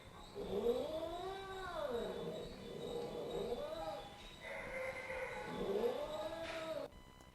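A male cat in an animal shelter lets out long, rising-and-falling yowling caterwauls, two or three drawn-out wails close to the microphone, with faint background noise.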